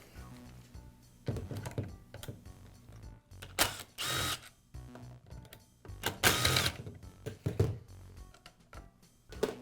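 Small screws being worked loose from the rear roller of a Milwaukee band saw with the guard removed, giving intermittent metallic clicks, taps and ratcheting clatter at close range, with bursts of louder handling noise.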